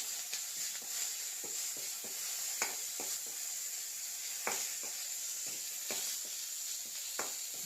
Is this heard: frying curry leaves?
yes